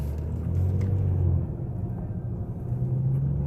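A car on Continental DWS 06 tires driving slowly over ice, a low engine rumble and road drone at close range, dipping and swelling slightly as it rolls along, with no talk.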